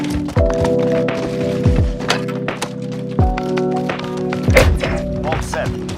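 In Modern Warfare 2019, a bomb is planted at site Alpha: a series of sharp thunks and clicks with rising electronic beeps, layered over game ambience and a brief spoken announcement.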